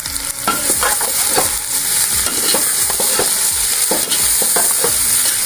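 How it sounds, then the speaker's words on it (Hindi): Onions frying in a pan for bhindi masala, stirred constantly: a loud, close sizzle with a quick run of scraping spoon strokes throughout. "प्याज को हमने सिर्फ थोड़ा सा नरम करना है कि जो प्याज हमारा हल्का सा गल जाए।"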